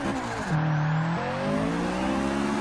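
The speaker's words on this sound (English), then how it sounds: "Oh, just listen to that turbo, man." A turbocharged Acura RSX Type S in a racing game, the engine droning and revving up with a rising whine, loud and close with a brief shift partway through.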